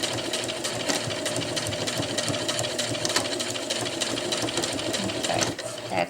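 A sewing machine stitching a round zippered bag for tree straps, a fast steady mechanical whirr with rapid needle clatter running continuously, close and alone, easing off briefly near the end.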